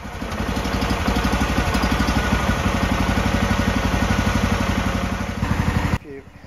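The small engine of a Liberty towable 360º excavator, with its backhoe, runs close and loud at a steady idle with a fast, even pulse, then cuts out sharply near the end.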